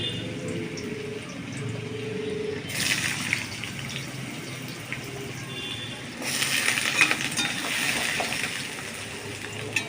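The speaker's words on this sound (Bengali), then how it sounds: "কড়ায় তেল দিয়েছি। আগে আলু কটা ভেজে নিই।" Potatoes fry in hot oil in a wok, a steady soft sizzle and crackle that grows brighter in two stretches, close by with no talking.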